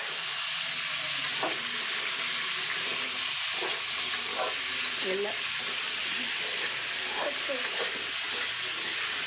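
Lemon rice is stirred through hot oil in a pan on medium flame, a steady close sizzle with intermittent scraping taps of a spoon against the pan.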